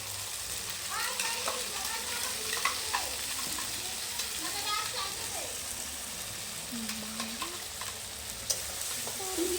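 Onion, garlic, ginger and green chili paste frying hard in a pan with steady sizzling and occasional stirring scrapes, moderately close, with faint voices in the background.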